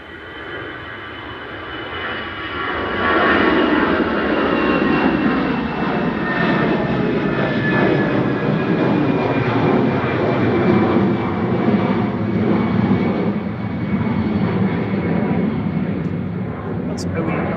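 An EasyJet jet airliner departs Manchester Airport, its engine roar swelling after a few seconds into a loud, sustained rumble that slowly fades, with people talking over it.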